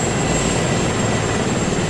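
A helicopter engine in the video game Arma 3 gives a steady, loud rotor and engine drone that runs continuously with no talk.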